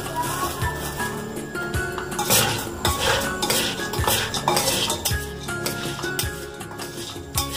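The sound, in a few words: mixing mava gutka ingredients with utensils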